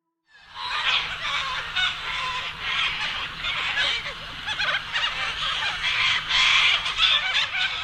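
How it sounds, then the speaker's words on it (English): A flock of cockatoos screeches and chatters loudly and without pause in the morning in rural Australia, a dense wash of harsh bird calls that starts abruptly and grows stronger toward the end. "I wake to the incessant chattering of a caucus of cockatoos"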